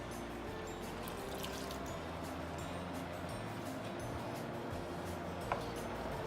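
Half a cup of water poured into a cooking pan holding onions, garam masala, sugar and yogurt, a quiet, steady trickle running for several seconds with one small tick near the end.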